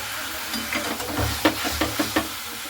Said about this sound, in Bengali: এরপরে চিকেনটাকে দিয়েও হালকা করে মশলার সঙ্গে এইভাবে আমি নাড়াচাড়া করে নেব।